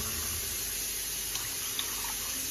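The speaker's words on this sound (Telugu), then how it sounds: "ఒక గ్లాస్ వాటర్ యాడ్ చేసుకోవాలి." A glass of water is poured into a mint-coriander chutney in a home kitchen, giving a steady, fairly soft rushing and splashing of liquid that runs the whole time, with no talking.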